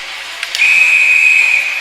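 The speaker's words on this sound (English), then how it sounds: "And another whistle." A referee's whistle at a U15 Major ice hockey game gives one long, shrill, steady blast lasting over a second, preceded by a couple of short chirps, heard fairly close against faint rink ambience.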